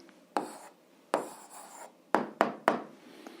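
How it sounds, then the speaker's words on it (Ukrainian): A pen writes an answer to an algebra exercise by hand, a few short scratchy strokes and taps on paper, close and quiet, with no talk. "А зараз записуємо відповідь, пишемо відповідь."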